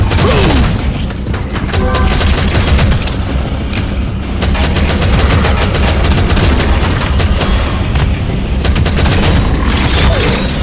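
Loud, dense video game gunfire fills PvP headshot practice, rapid shots and bursts cracking almost continuously with booming impacts throughout.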